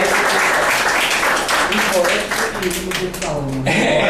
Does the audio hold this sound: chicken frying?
no